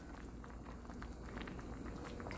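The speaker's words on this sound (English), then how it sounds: "Oh, it's really boiling." Pasta cooking in a pot of boiling water for Cajun chicken pasta, a close, steady bubbling and popping with no talk.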